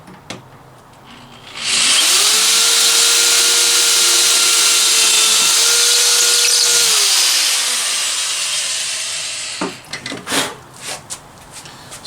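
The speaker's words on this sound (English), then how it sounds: "So I'm just gonna go ahead and drill the holes" A power drill bores holes in wood, a loud steady whine that runs for about eight seconds with a shifting motor pitch, then cuts off into a few scattered clunks and handling noises.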